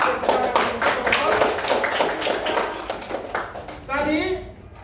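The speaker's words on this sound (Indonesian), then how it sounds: "Kasih tepuk tangan untuk kelompok." Classroom applause for a student group winning third place, a short burst of clapping from a class of students mixed with voices, ending with a brief spoken remark.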